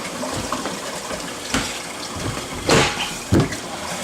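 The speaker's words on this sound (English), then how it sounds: "I've got a massive amount of water flow" A massive flow of water pouring from a hose, a continuous rushing wash with a couple of louder gushing surges, close by and with no voices.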